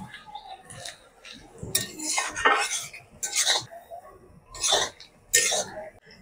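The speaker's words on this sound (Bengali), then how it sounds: "পেঁয়াজটাকে লাল লাল করে ভেজে নেব" Chopped onions fry and are stirred in a pan until reddish, with utensils clattering and scraping against the metal in irregular bursts at close range.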